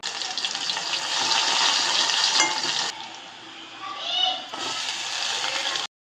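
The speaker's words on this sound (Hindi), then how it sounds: "अब इसके बाद यहाँ पर डाल देते हैं प्याज" Onions frying with garlic and cumin in hot oil for a dal, a loud, steady close sizzle that drops briefly midway while a quieter fizz and faint clinks continue, then swells again.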